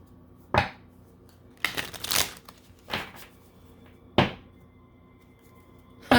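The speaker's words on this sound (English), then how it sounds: "3 shuffles." Tarot cards shuffled in three separate bursts, short riffling rustles with quiet gaps between them, close and fairly loud with no talking.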